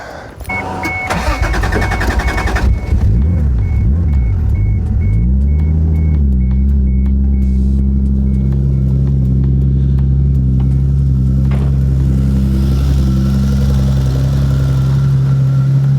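A Toyota Supra engine with a small exhaust leak cranks, catches and roars to life, then settles into a loud, steady idle nearby.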